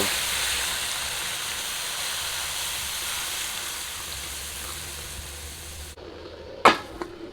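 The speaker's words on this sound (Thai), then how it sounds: "ใส่น้ำเปล่า" Plain water pours into a pot of pork belly layered with pickled mustard greens, making a steady rushing hiss for about six seconds. The pour then stops abruptly, followed by a brief clunk.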